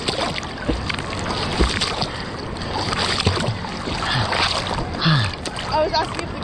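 Ocean water splashes and sloshes close by while someone swims in the Pacific, with broadband wet turbulence, a few sharper splashes and a voice talking now and then.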